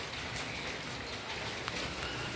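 Rain falling outdoors around potted philodendron plants, a steady dense hiss of drops with a faint patter on surfaces, continuous and even throughout.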